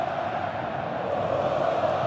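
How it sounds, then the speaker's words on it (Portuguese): More than 45,000 Corinthians fans fill a football stadium during a Brasileirão match against São Paulo, giving off a dense, steady roar of crowd noise that stays even for a couple of seconds. "torcida campeã, empolgada, mais de 45 mil no estádio"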